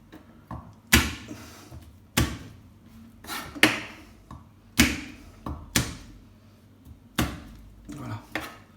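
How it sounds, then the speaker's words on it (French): Garlic cloves are crushed for a blanquette de veau, with about a dozen sharp, separate thuds and knocks on a kitchen surface at an irregular pace, close and clear with quiet pauses between. "Pour ce qui est de l'ail, on l'écrase de cette manière."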